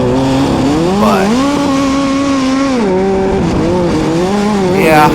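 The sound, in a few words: EA Stealth race car engine running on track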